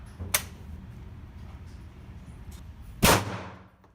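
Two sharp gunshots crack at a shooting range as guns are test-fired, a few seconds apart, each a sudden loud burst that fades with a short echoing tail over a low steady background.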